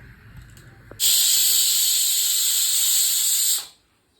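A pressure cooker whistle, on a pot of salted water on the stove, lets out one loud, steady hiss of steam for about two and a half seconds, then cuts off quickly into quiet.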